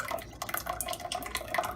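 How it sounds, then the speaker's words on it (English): Thick tomato sauce from a 29-ounce can glugs and plops into a pot in quick irregular drips and splats, close and fairly quiet, with no speech. "I'm going to pour that in there."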